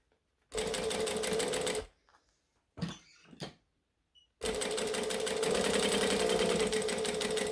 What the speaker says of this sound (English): I'm going to stitch and backstitch at that end as well.